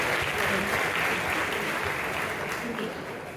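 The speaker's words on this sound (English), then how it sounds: "Okay, everyone, a big round of applause." Participants at a Spark Challenge session applaud in a steady, full round of clapping with murmuring voices mixed in, holding level before easing slightly at the end.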